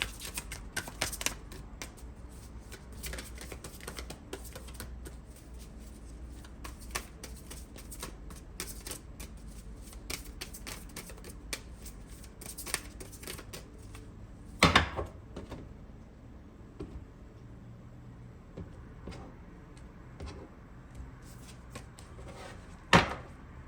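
Tarot cards are shuffled by hand, with repeated quick riffling and flicking bursts close by, broken by soft taps and one sharper snap partway through.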